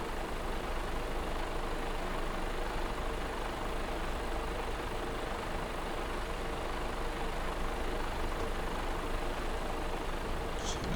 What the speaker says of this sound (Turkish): Şöyle bir rolantede ilk önce bir sesini dinleteyim size.